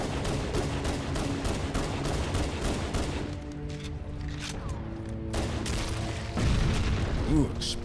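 Explosions and rattling gunfire in the shooter Halo: Combat Evolved Anniversary, a rapid volley of bursts early on that thins into scattered booms and a louder blast near the end, with faint voices under the fighting.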